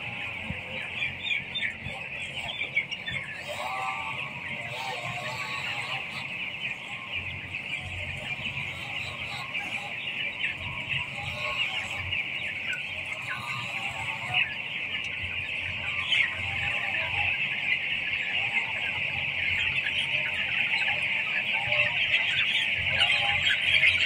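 Chickens cluck steadily throughout on a poultry farm, a dense, continuous chorus of many birds at moderate distance with no talk over it, growing slightly louder toward the end.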